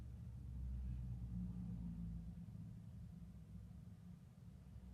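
AGF roofing truck engine idling in a residential driveway, a steady low rumble that swells early and then holds at a quieter, even drone with no voices.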